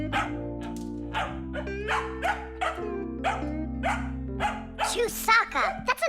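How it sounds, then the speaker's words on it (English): Cartoon dog barking in an animated children's show, several sharp yaps and whimpers spread through the clip over a steady musical backing. "Come on, she's just a dog."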